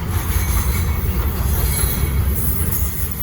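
A slow Norfolk Southern freight train rolls past on the Charlotte District near Broad River under a speed restriction, with a loud, steady rumble of rail cars and squealing wheels filling the whole stretch.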